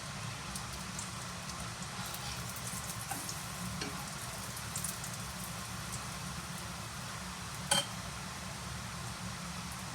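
Hot water cornbread frying in a pan of oil gives a steady, even sizzle and crackle throughout, with one brief sharper pop near the end and no talking.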